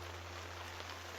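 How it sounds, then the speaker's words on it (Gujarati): Steady, faint hiss of rain falling outdoors on a farm, a brief continuous wash with no voices over it. "અત્યારે વરસાદ પડવા માંડ્યો છે"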